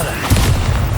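A deep, booming blast from the Bombarda explosion spell in Hogwarts Legacy, one loud, rumbling hit filling the moment, close and heavy.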